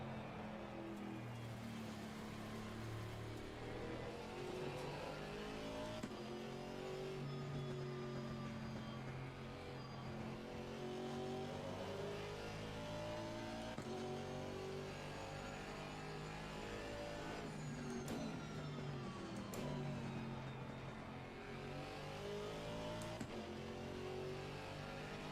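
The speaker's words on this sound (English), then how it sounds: "This car sounds beautiful." A race car engine in a racing video game revs steadily and continuously, its whining tone climbing and falling through gear changes, loud and unbroken with no talk.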